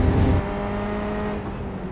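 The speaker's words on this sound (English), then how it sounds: "So this is the Corvette C8 in iRacing at Brands Hatch." Corvette C8 engine in the iRacing sim at Brands Hatch, a steady droning engine tone at constant pitch with a slightly louder burst at the start.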